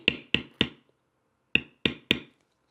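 Six sharp mallet strikes on a bevel tool against leather, in a group of three, a pause, then three more, each a crisp close knock with a short ring.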